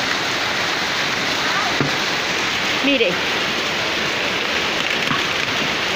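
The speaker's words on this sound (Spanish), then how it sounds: "Gozando la caída de granizo, véala." A heavy hailstorm pelts the ground in San Antonio, Jamundí, Valle, as a dense, steady hiss of countless small impacts, close and loud, while someone speaks briefly over it.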